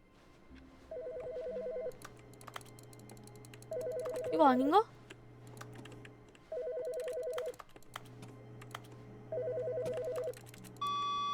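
In the video game The Stanley Parable, a telephone rings in repeated bursts with pauses between them, while a person talks over it.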